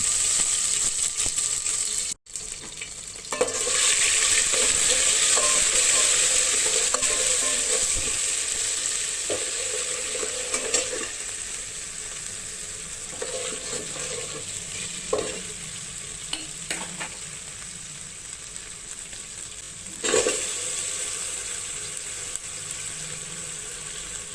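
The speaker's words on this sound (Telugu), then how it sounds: "మనం ఇందులో పచ్చి కొబ్బరి, అల్లం వెల్లుల్లి పేస్ట్ని కూడా యాడ్ చేసుకుని ఫ్రై చేసుకుందాం" Freshly grated coconut and ginger-garlic paste fry with mustard seeds in hot oil for raw banana pulusu, giving a steady, close sizzle broken by occasional stirring scrapes, with no one talking.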